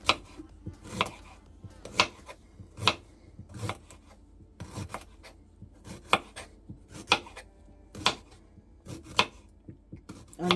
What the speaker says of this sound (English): And as for the ginger, I'm gonna cut it